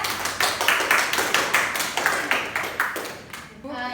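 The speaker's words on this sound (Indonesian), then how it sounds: "Beri aplaus dulu untuk kelompok 3" A classroom group of students claps for a presenting group, a run of quick, fairly close handclaps lasting several seconds and fading out near the end.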